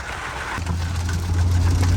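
Rain falls on an Infiniti Q50 while it is being driven. The patter is a dense, steady wash with a low road rumble that swells slightly partway through.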